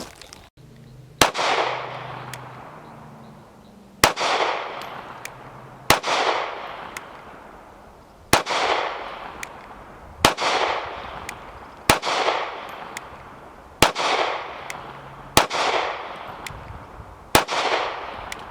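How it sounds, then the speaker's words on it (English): Taurus PT111 G2C 9mm pistol fired in single shots, about eight sharp loud reports spaced one to two seconds apart, each with a short decaying echo. "it doesn't take long to get accustomed to the way this gun shoots."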